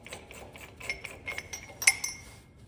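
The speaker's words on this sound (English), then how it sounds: "Look at the little wrench I'm gonna use to remove it." A small wrench works a fastener on a 1970 GMC rear hub, giving a quiet series of close metallic clicks and clinks, with one sharper ring near the end.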